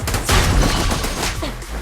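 Bursts of rapid gunfire from an improvised gun fill a short moment of combat in the video game Zenless Zone Zero, loud and dense, with overlapping booms.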